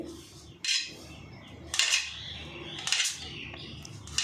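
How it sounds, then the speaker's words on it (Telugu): A knife cutting paneer at home for a curry, with three or four distinct chopping knocks against a board, spaced about a second apart, close and fairly crisp over a quiet room. "ఇలానే కట్ చేసుకోవాలి చూడండి"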